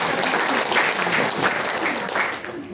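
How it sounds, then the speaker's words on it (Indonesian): A hall full of people at a women's organisations regional assembly in Merauke clapping together, a steady dense wash of applause that holds strong throughout and eases slightly at the end. "Tepuk tangan buat kita semua."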